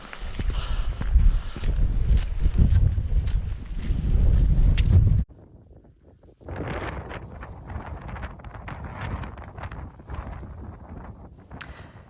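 Strong wind buffets the microphone on a hilltop hike along Derwent Edge, loud gusty rumbling that drops to near quiet briefly before blowing hard again.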